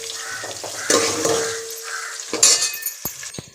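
Onions sauté in a pan with fennel seeds and cinnamon, giving a soft sizzle broken by a few sharp scrapes and clinks of stirring, close up with no talking.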